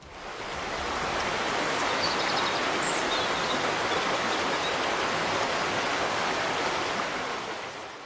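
A fast river current rushes through grizzly bear country, giving a steady, loud, even roar of water that fades in and holds unchanged throughout, with no talking.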